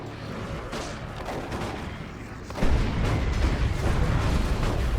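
A drop pod slams down in a Dawn of War 2: Retribution match, a heavy explosive impact that jumps in loudness midway and rumbles on amid continuous battle noise and artillery-like bursts.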